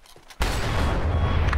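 A sudden loud burst of gunfire erupts after a brief quiet moment and keeps going as a dense, sustained volley in the online shooter Blackshot, during a clan war match.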